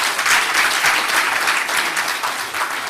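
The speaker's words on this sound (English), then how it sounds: "Can we give a round of applause, please?" Audience at the Ghana Football Association's ordinary session applauds, a loud, dense, continuous round of clapping from a large crowd filling the full three seconds with no voices.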